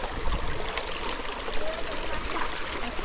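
A shallow river streams along in a steady broadband wash, continuous and close, with faint voices now and then underneath the rush of water.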